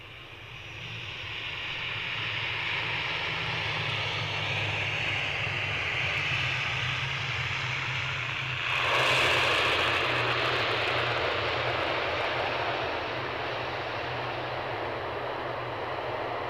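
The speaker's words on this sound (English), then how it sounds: "Inbound from Belfast, an Aer Lingus ATR" An Aer Lingus ATR 72-600 turboprop arrives at Edinburgh airport, a loud, steady propeller and engine roar with a low droning hum that swells briefly midway and then holds on.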